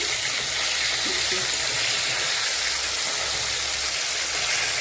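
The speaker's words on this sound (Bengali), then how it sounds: "মাছ ভাজা প্রায় হয়ে গেল।" Fish sizzling in a frying pan, a steady dense hiss of hot oil running unbroken throughout, fairly loud and close with no voices over it.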